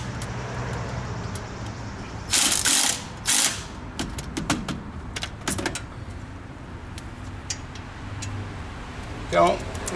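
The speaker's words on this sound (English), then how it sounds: "wrench it right in there because you still have two more to do" A wrench ratchets on the wheel hub bolts of a Jeep JK, giving bursts of clicking and metallic clanks with pauses between them, close to the microphone.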